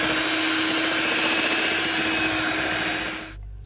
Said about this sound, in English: we're just going to very quickly mix those in together